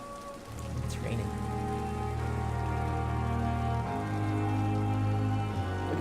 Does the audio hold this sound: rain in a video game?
yes